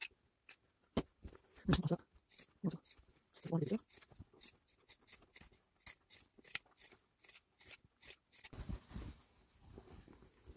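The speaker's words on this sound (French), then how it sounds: "cranter comme tout à l'heure avec le coupe-fil et ensuite avec le ciseau" Scissors snip notches into fabric while sewing a wide-brimmed capeline hat, a run of quick, close cuts with short pauses, under quiet French speech.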